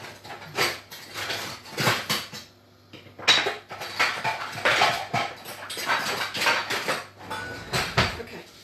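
A spatula scrapes and clatters against a pan while stirring chicken or lamb mince for keema curry, in irregular bursts of metallic scraping and knocks, close and fairly loud, no talking.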